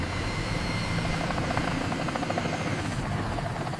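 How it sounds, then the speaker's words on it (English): A helicopter drones steadily and loudly for a few seconds, its continuous engine and rotor noise holding an even level throughout, with no voices over it. "Helicopter."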